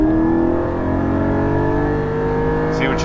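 A Porsche 718 GT4 engine pulls hard under acceleration, a loud, sustained mid-pitched drone holding steady from close inside the car.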